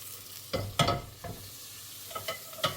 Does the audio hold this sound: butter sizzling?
yes